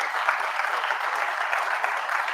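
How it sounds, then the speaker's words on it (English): Applause from a live comedy awards show audience, dense steady clapping that fills the room without a break, fairly loud and unbroken by talk. "let's give this man a round of applause"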